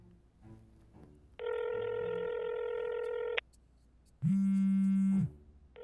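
A telephone signal heard on an outgoing call plays alone: a steady harmonic tone holds for about two seconds, drops out, then a second, deeper buzzing tone sounds for about one second, with no talk.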